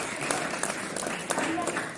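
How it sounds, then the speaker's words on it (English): An audience at a school talk breaks into a steady round of applause, a dense wash of clapping that fills the room and stays level from start to finish. "May I have a round of applause for him?"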